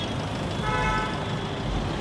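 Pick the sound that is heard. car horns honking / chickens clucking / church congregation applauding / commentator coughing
car horns honking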